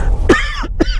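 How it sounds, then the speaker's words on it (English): Two sharp coughs from a man driving through downtown Seattle, loud and close, about half a second apart, heard alone inside the car. "Excuse the cough."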